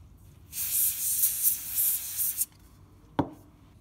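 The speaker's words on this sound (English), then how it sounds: "the first try is to remove the dirt with compressed air." Compressed air sprays in one loud, steady hissing burst lasting about two seconds while cleaning dust from a CPU socket, followed by a short sharp click or tap.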